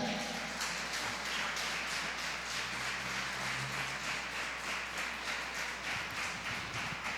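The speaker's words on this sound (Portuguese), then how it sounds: "dê um forte aplauso para o Senhor" A church congregation applauds loudly during a sermon, with dense, sustained clapping from many people and a faint low hum running underneath.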